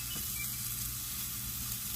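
Asparagus spears fry in a hot pan, giving a steady, close hissing sizzle that continues without a break.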